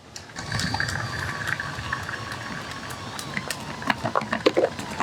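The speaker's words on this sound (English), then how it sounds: "On this cycle, it seems to be sloshing quite a bit more" An off-grid washing machine sloshes water through its cycle, running slightly off balance, with a steady wet churning and sporadic splashy knocks that grow sharper toward the end.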